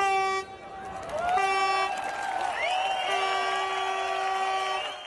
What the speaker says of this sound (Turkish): Bir süre maçı izleyen makinist, taraftara korna çalarak destek verip yoluna devam etti.